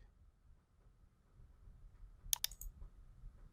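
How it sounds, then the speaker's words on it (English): A computer mouse gives two quick, sharp clicks in close succession, near and crisp against a quiet, low background hum. "I'm going to click."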